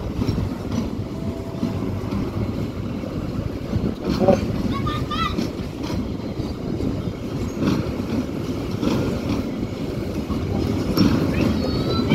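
A train of empty flat wagons rolls past with a continuous heavy rumble and rattling wheel clatter, accompanied by wind buffeting the microphone.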